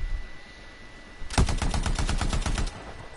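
Automatic weapon fire in the video game Anthem, a quick evenly spaced burst of about a dozen punchy shots lasting just over a second, loud and close, following a quiet lead-in with no talking.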